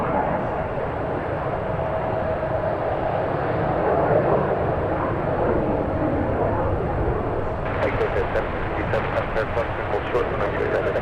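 United Boeing 777 airliner arriving at San Francisco airport, a steady broad jet roar that swells slightly and holds, with faint clicking near the end.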